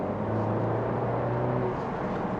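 BMW 320i driving in sport mode, a steady low engine drone and road rumble heard from inside the cabin, continuous and even.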